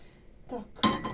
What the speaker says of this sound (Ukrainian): ставлю сковорідка, хай гріється.